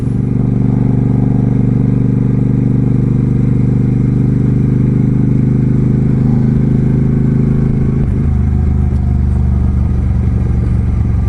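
An Indian Springfield motorcycle rumbles steadily and close through a neighborhood construction area, its low engine drone constant with a slight shift in tone near the end.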